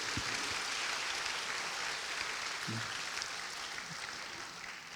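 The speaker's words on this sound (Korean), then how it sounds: "중등부 원주 갔다가 지금 올라오신 분 우리 같이 박수합시다." A church congregation claps together in welcome, a continuous wash of moderate applause that holds steady for several seconds and softens slightly near the end.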